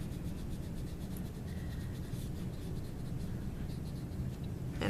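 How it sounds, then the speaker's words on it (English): Extra perspective lines are erased from a drawing on paper, producing a soft, continuous close rubbing and scratching that holds steady throughout with no talk. "and I'm going to erase all that extra stuff."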